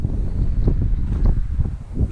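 Strong wind buffeting outdoors in Iceland during a fishing trip, gusty low rumbling that pulses in uneven bursts and dominates the recording.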